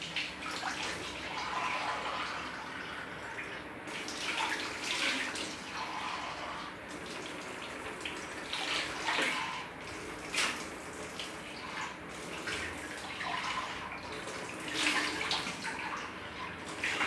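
Tap water runs steadily into a bath in Moulvibazar, Bangladesh, a continuous splashing rush with small surges and gurgles, close and fairly quiet, with no talk over it.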